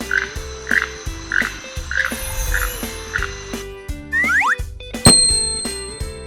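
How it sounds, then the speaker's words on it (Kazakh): A toucan gives a steady series of hoarse, croaking calls, about two per second, followed by a few quick rising whistles and a bright chiming tone near the end. "тукан"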